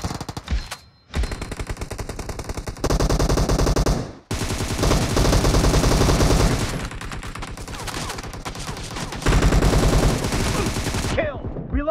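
Beryl M762 assault rifle in a PUBG Mobile team deathmatch firing sustained loud automatic bursts, dense rapid reports packed across nearly the whole stretch with only brief pauses between strings of fire.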